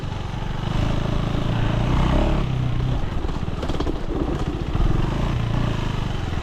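KTM 390 Enduro R single-cylinder motorcycle being ridden, its engine a loud, close, continuous rasping drone with slight rises and falls in revs and no talking.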